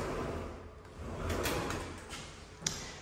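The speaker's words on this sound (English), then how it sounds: "And a double closet, sliding doors." A pair of sliding doors on a double closet in a house glides along its track with soft rumbling swishes. A sharp knock sounds near the end, and the whole clip is fairly quiet.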